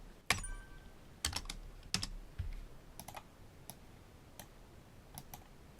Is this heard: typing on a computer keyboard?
yes